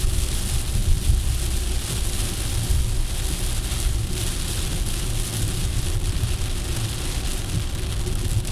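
Heavy rain drums on a vehicle driving the BR-101 highway near Xexéu in Pernambuco, Brazil, a loud, dense, continuous roar with road rumble underneath and no talk.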